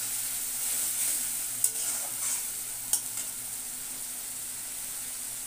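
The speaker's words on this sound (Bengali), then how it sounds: "আদা, রসুন একসাথে দিয়ে দিলাম।" Ginger and garlic paste frying in oil in a pan, a soft steady sizzle with a couple of faint stirring scrapes, close and quiet with no talk.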